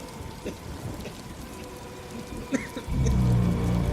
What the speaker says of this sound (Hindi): बारिश बहुत गरज चमक के साथ हो रही होती है।